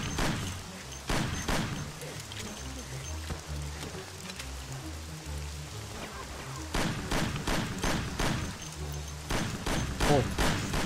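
Gunfire in the video game Mafia, with rapid clustered shots in several bursts over a continuous background rumble, fairly loud and irregular throughout.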